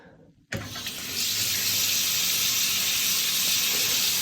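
Water gushes from a mixer tap into a balneo bathtub, bursting on after a brief quiet moment and then holding a loud, steady hissing rush to the end.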